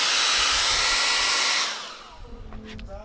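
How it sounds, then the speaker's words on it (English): A hot Conair blow dryer heating 3M adhesive tape while fitting Civic Type R FD2 side skirts roars loudly and steadily, then cuts off and leaves quieter room sounds behind. "This is a blow dryer, but it's pretty hot."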